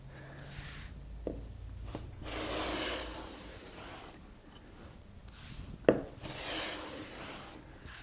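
Hand plane shaving a thin kumiko wood strip, producing soft repeated swishing strokes of blade on wood with occasional light knocks, close and fairly quiet.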